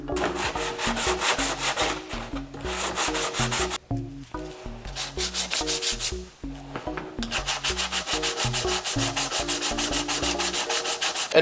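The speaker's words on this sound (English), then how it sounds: "I think the sanding is all done." Body filler on a Corolla KE10 fender flare is sanded by hand in steady rhythmic back-and-forth strokes, a close, loud scratchy rubbing with a couple of brief pauses and no talking.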